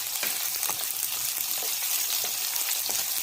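Garlic, onion and carrot sizzle in a hot pan, a steady bright frying hiss with small crackles and pops, heard alone and close.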